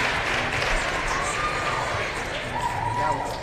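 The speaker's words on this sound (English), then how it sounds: "That was probably the biggest applause we've heard all day" Applause from a large crowd at a gymnastics regional meet after a bars routine, steady and fairly loud throughout, mixed with cheering and arena chatter in the background.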